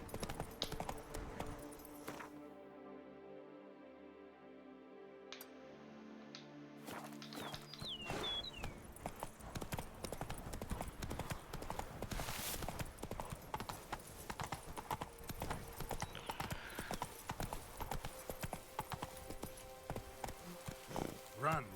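Roach, Geralt's horse in The Witcher 3: Blood and Wine, gallops with brisk, close hoofbeats in a rapid repeating rhythm for most of the stretch, after a quieter musical opening, with someone talking over it now and then.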